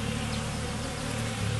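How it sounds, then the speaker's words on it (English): Dense, continuous buzzing of many honey bees close by at a hive, a steady droning hum with no pauses and no voices. "There's a lot of buzzing"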